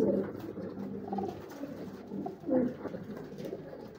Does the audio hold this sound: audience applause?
no